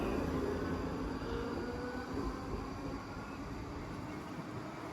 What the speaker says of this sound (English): So the train's heading out to Waverley.